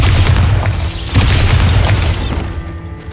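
A Bombarda blast spell fired in Hogwarts Legacy lands as heavy, loud booming explosions, two big low-end hits around a second apart with crackling debris and a bright shimmering magical whoosh, then fading out.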